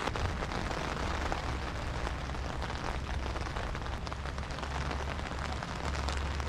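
Storm rainwater pours off a hill across a lawn and into a duck pond, a steady, close, broadband rushing wash with a low rumble and no pauses.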